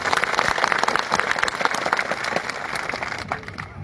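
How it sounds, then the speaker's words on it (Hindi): A crowd at an outdoor public speech breaks into steady, dense applause that holds strong for a few seconds and then thins out as the clapping winds down. "एक बार तालियां बजाओ।"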